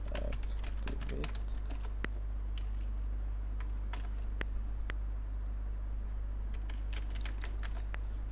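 Keys on a computer keyboard clatter in quick irregular bursts of close, crisp taps over a steady low electrical hum, with a brief voice near the start.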